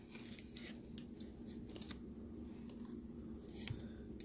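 Scissors cut a piece of RV patch material, snipping in faint close crisp clips spread over a few seconds against a low steady hum, with no one talking.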